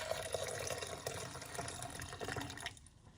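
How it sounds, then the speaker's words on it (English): About two cups of warm milk, cooled to 135 degrees for homemade yogurt, pour into a container with a close, steady liquid splash that stops abruptly near the end. "I let my milk cool down to 135 degrees, and now I'm just going to pour about 2 cups of it into here"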